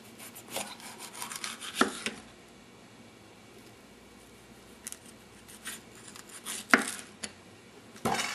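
A Yoshi Blade ceramic knife slicing a habanero pepper on a board gives scattered crisp cuts and taps, with a few sharper knocks near the start and end and quiet handling in between.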